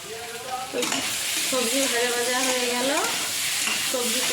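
Spices for a potato and pointed gourd curry fry in a pan with a steady, close sizzle, while a utensil scrapes and stirs through them with a few squeaky tones.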